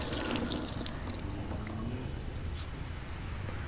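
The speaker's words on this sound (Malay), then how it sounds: "Okay, air dia pun agak laju." Water gushes fast and steady from a campsite tap into a sink, loud and close with a continuous broadband rush and no talk over it.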